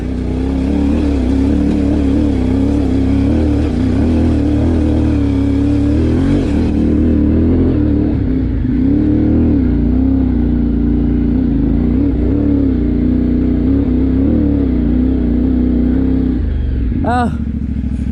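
A CFMOTO 450MT motorcycle engine runs loud and close, its pitch rising and falling as it revs, ending with a brief higher whine.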